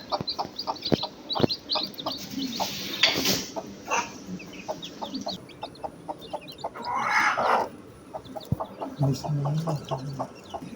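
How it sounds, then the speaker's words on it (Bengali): Chickens cluck in short, repeated bursts close by near hatching chicks, with a brief louder squawk partway through and faint background noise. "দেখো এখানে আমাদের মুরগির বাচ্চা ফুটছে"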